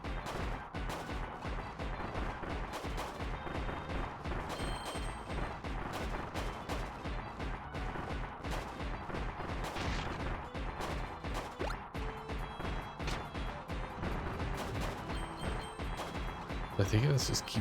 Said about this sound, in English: Oh shit, we got a cannon.